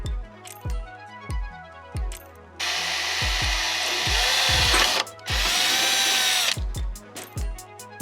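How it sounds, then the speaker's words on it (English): Step drill bit cutting a hole in a Honda Civic Type R body panel for a rivet nut: two loud, steady grinding bursts of the drill, with sharp taps and knocks before, between and after. "This is basically a step up drill bit."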